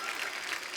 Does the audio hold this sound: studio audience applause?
yes